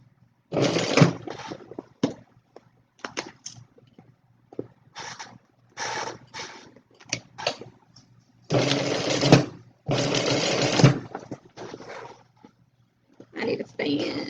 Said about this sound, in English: I feel like I'm gonna sew over a staple.